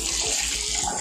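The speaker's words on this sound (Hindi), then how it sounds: "तो भरती हूँ सबसे पहले पानी।" Water pouring from a tap into a bucket at home, heard as a loud, steady, close rushing splash with no pauses.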